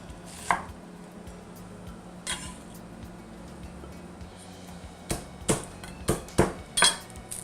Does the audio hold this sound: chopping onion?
yes